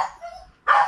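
A dog kept shut in a kitchen area of a dilapidated home gives a short bark or yelp after a quiet stretch, close and fairly loud, with no talk over it.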